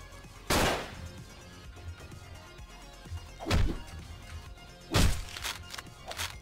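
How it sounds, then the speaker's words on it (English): Shotgun blasts from the Hotline Miami 2 video game on PC, three sharp booming shots spaced unevenly with a short decaying tail after each, over a quiet low background. "Nothing like a good old shotgun, eh?"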